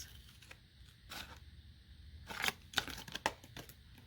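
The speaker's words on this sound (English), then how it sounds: "I'm just going to take my scissors and cut in like this" Quiet, close snips and crinkles of scissors cutting through paper, a few short irregular cuts.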